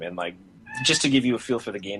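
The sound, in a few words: cat meowing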